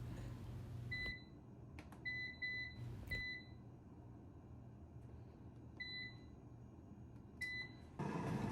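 Cosori 5.8-quart smart air fryer cooking popcorn chicken, a quiet steady fan hum punctuated by several short electronic beeps in pairs and clusters.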